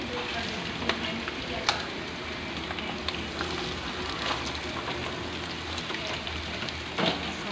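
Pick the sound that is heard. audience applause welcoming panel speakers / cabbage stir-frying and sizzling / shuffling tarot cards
cabbage stir-frying and sizzling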